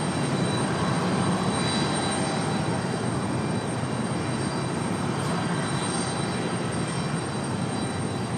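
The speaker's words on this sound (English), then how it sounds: "Looking at a 20-year-old A320, again, from San Juan, Puerto Rico" A steady, moderately distant engine roar comes from a 20-year-old JetBlue Airbus A320 arriving from San Juan, Puerto Rico, at Raleigh-Durham International Airport, continuous and even throughout.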